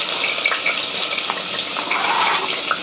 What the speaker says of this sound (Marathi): तेल गरम झालंय आता कांदा टाकूया